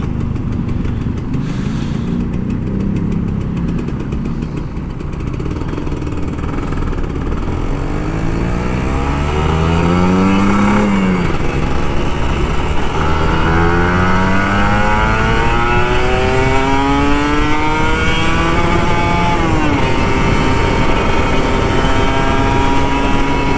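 An old Kawasaki Ninja RR 150 two-stroke motorcycle screams close up on the road, revving through the gears in repeated rising and falling sweeps, loud and continuous throughout.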